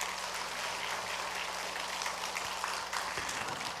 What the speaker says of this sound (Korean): 귀한 목사님 다시 한번 우리 감사와 격려의 박수를 하겠습니다.